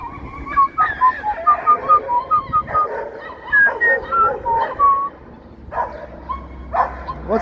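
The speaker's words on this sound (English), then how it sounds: "What's with the doggies? They're just yelping over there." Several dogs yelp, whimper and bark in rapid, uneven bursts a short distance away on a Toronto street on a Friday evening, with a brief quieter gap near the end.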